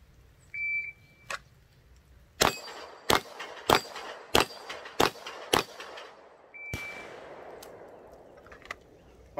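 Pistol shots ring out against a Bianchi steel plate rack at 10 yards, two shot-timer beeps framing a fast string of six sharp cracks, each followed by a metallic clang of the plate, with an outdoor range tail fading afterward.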